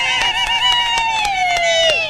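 A crowd at a chiefs' office commissioning in Kiambu claps in a steady, evenly spaced rhythm, the sharp beats loud and close beneath a sustained, slowly falling wailing tone.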